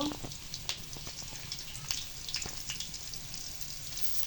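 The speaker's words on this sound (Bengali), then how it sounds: "এগুলো একটু ভেজে নিব যেন কাঁচা গন্ধটা না আসে" Ginger garlic paste fries in hot oil in a pan for beef curry, giving a steady soft sizzle with scattered light pops and crackles throughout.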